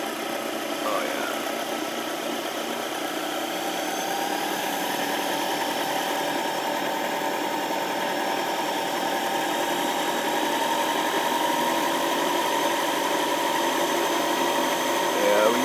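A homemade doorknob reactor spins at high speed, around 3,000 to 4,000 RPM, giving a steady, loud whirring hum with a continuous mechanical whine that holds evenly throughout and rises slightly near the end.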